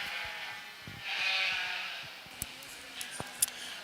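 Sheep bleat at a county fair breeding show, a drawn-out call near the start followed by a few clicks and knocks in the ring, with faint talk in the background.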